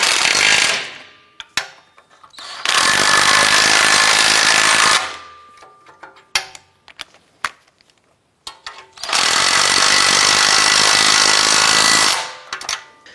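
Two long, loud bursts from a power impact tool driving nuts down onto bolts over a lock washer, each lasting a few seconds and separated by quieter clicks and handling noise.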